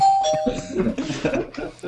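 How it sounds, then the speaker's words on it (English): A doorbell ringing as a sound effect, a clear chime near the start that fades beneath loud overlapping voices talking and laughing. "Doorbell, Craig."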